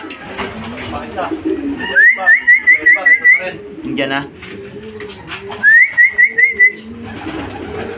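Racing pigeons arriving at a home loft after a club training flight coo in two clear rhythmic bursts of repeated calls, close by, with someone speaking briefly between them.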